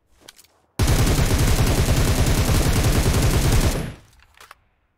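Rapid automatic gunfire from a weapon in the mobile battle royale game BGMI, a loud continuous burst lasting about three seconds, starting abruptly and cutting off, with faint quiet moments before and after.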